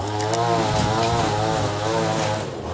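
A loud, steady engine drones nearby with a constant buzzing hum that swells slightly, like a lawn mower running throughout.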